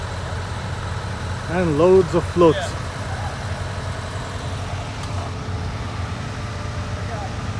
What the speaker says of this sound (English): Got a whole bunch of trucks here